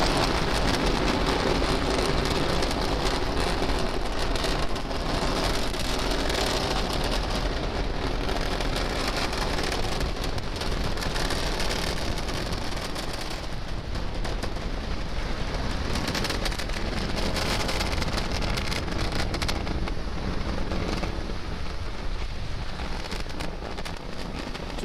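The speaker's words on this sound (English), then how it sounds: "Liftoff. Go Falcon, go GPS. Vehicle is pushing down right." SpaceX Falcon 9 rocket carrying a GPS III satellite lifting off from Florida, its Merlin engines a continuous broadband roar with crackling rumble, loud and unbroken for the full stretch without voices.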